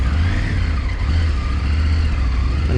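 A Triumph Tiger 900 GT motorcycle pulls away onto the motorway, its engine a steady deep drone with strong low rumble and rising road and wind noise, loud and continuous, no talking.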